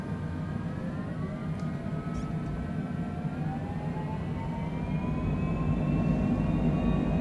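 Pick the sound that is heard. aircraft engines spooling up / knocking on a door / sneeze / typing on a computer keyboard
aircraft engines spooling up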